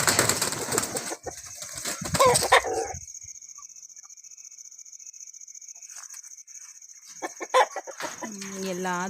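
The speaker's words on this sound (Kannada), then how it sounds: "ಇನ್ನೊಂದು ಕೋಳಿ ಇದು ನೋಡಿ, ಚೈನಾ ಕೋಳಿ ಒಳಗಡೆನೇ ಹೋಗಿಲ್ಲ." Backyard chickens, including a China breed hen, cluck in short bursts, busy at first, then going quiet for several seconds before a fresh round of clucking near the end, close by.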